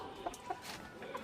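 A rooster at a village poultry spot clucks in short, repeated bursts, three or four close, fairly loud calls over a faint outdoor background.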